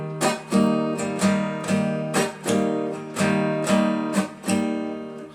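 Acoustic guitar strummed in a rhythmic pattern with palm-muted strings, chords alternating with short choked percussive strokes, close and steady with no talking.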